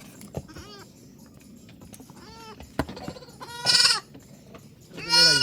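A Hyderabadi cross mother goat bleats, with loud, close calls near the end that stand out over quieter bleats and background noise earlier on.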